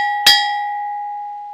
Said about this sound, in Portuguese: esse sino é original aqui da fazenda